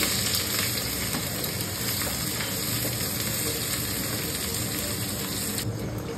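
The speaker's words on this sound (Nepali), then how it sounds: "तेल तातिसक्यो। अब यहाँ बेसार, जिरा अनि प्याज हालिदिन्छु" Turmeric, cumin and onion hitting hot oil in a kadai for a Nepali fish curry, a loud, dense, continuous sizzle up close with no voices.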